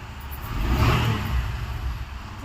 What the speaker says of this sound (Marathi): दीपिकाची रिक्षा आली.